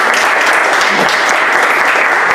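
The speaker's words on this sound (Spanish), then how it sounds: "Vamos a dar un aplauso de bienvenida" An audience at a medical lecture on deep vein thrombosis claps in welcome, dense and steady applause filling the whole moment at even strength.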